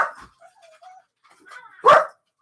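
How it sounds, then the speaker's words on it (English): Dogs bark in a short burst, a few soft yips early on and then one loud, close bark near the end, with no talk over them. "There goes the dogs. You can tell the dogs."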